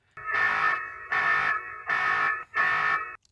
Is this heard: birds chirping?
no